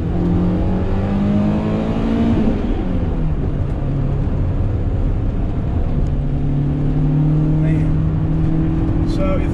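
A BMW E30 M3 drives steadily on a morning road, its engine droning loud and close with a gradual rise and dip in pitch as it changes speed, tyre and road noise underneath.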